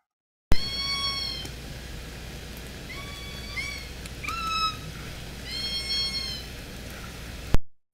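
Orca killer whale from L pod giving the high, mewing 'little kitten call', a series of rising squeaky whistles in several bursts over underwater hiss, played back as a recording.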